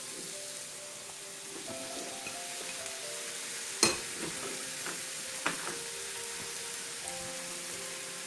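Jalapeño and other peppers hit a hot pan for cauliflower tacos, giving a faint, soft sizzle with a couple of sharp clacks from the pan or utensil and no talking.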